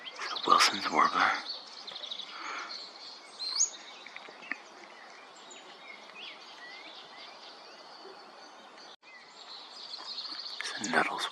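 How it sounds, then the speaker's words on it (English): A Wilson's warbler gives sparse, high chirps at a San Diego wildlife refuge at sunset, fairly faint against a soft hum of insects. Short bits of speech appear at the beginning and the end. "Wilson's warbler."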